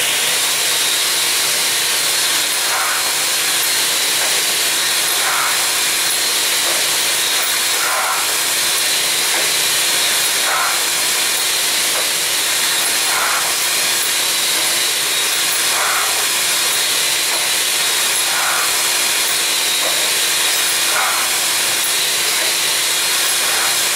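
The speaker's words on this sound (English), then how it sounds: "I have an array of trimmer motors set up to dual purpose trim these cartridges" An array of trimmer motors trims and forms brass .223 cartridges into 300 AAC Blackout, giving a loud, continuous high-pitched whine and hiss with regular faint cutting pulses every few seconds.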